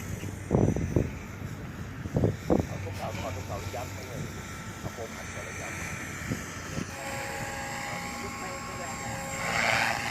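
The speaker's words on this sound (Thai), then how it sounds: "เฮลิคอปเตอร์ X360 นะครับ" X360 remote-controlled model helicopter flying at an RC field on a windy day, a steady rotor whine and hum under someone talking, with gusting wind noise and the pitch rising near the end.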